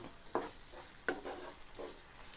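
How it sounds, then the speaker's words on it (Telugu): Papaya halwa with melted jaggery is stirred as cardamom powder is mixed in, producing a few quiet, spaced scraping strokes of a spoon in a pan over faint background hiss. "ఇందులో 1/2 టీ స్పూన్ యాలకుల పొడిని వేసి కలుపుకోవాలి."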